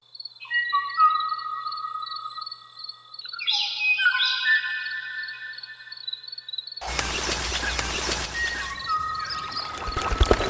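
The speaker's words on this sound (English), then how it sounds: "There are literally tens of thousands of birds here that use this place." A wetland used by tens of thousands of birds, with many thin, high calls and chirps overlapping steadily and fairly close for about seven seconds before a sudden loud rushing wash, like water or wind, takes over; no one speaks.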